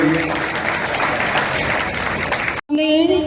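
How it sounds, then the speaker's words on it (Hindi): A crowd at a church New Year gathering applauds one another, with dense, even clapping for about two and a half seconds before it cuts off abruptly and a voice follows. "जोर से ताली बजाएंगे हम लोग एक दूसरे के लिए"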